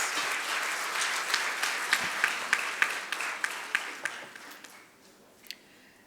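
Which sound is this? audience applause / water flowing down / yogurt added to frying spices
audience applause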